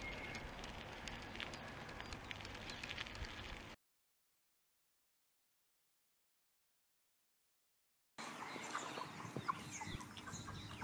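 Chickens cluck softly at a farm with a farm shop, faint and somewhat distant, with a stretch of silence midway before the clucking resumes.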